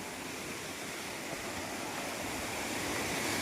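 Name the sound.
Manikpur waterfall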